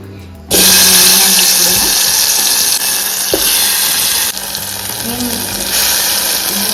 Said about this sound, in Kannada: ಸ್ವಲ್ಪ ಎಣ್ಣೆ ಹಾಕಿ ಈಗ ಎಣ್ಣೆ ಕಾದತಿ. ಕಾದ್ಬಿಟ್ಲೆ ಏನು ತುಂಬಿಟ್ಕೊಂಡೇವಲ್ಲ